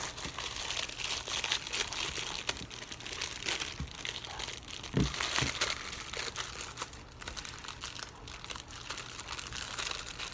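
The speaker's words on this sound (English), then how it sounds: "You want to open them just slightly so you can get that packet out." Crinkly plastic packages being opened by hand to take the packets out, close and steady throughout with a few sharper crackles and tears, no talking.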